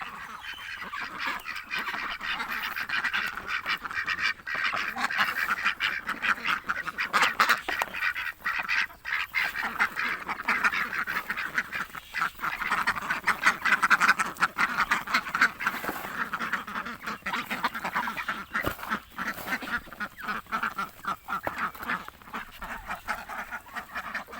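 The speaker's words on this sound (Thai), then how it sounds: "วันนี้ก็ พามาให้อาหาร น้องเป็ดยามเช้าๆนะครับ" A flock of ducks quacks and honks continuously, many birds calling over each other at close range in a busy, overlapping chorus.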